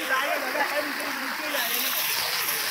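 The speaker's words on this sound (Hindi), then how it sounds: "बहुत ज़ोर से बारिश है" A steady, dense hiss of heavy monsoon rain pouring down on a trek to Takmak Fort near Mumbai, constant and enveloping, with no voices standing out.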